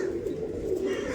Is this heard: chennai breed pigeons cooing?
yes